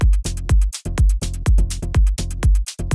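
A melodic techno groove made in Ableton, with a white noise layer washing over a pounding four-on-the-floor kick and crisp hats, loud and continuous, looping in an even rhythm.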